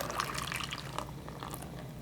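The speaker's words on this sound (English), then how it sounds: "this will allow you to drain the water off your seeds" Rinse water trickles and drips off seeds through a draining jar lid, a soft, steady splashing with scattered droplets, close and fairly quiet with no talking.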